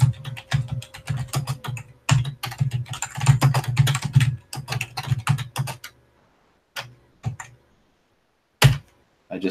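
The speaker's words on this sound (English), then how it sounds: "I just typed it in there at the end, so it should be there." Rapid bursts of typing on a computer keyboard while a link is entered, dense clattering keystrokes for several seconds, then a few isolated key taps separated by silence, close and clear with no speech.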